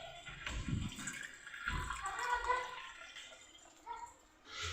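Water splashes and trickles as it is poured into a cup of flour for dough, in short bursts with gurgling pauses, close and moderately loud, with no talk over it.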